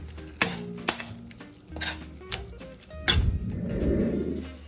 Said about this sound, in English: And we're gonna stir that all in.